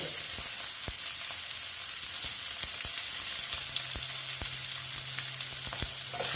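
Onion and capsicum with a pinch of cumin powder frying in a pan, a constant bright sizzle punctuated by sharp clicks of a spatula against the pan, plus a faint low hum in the background.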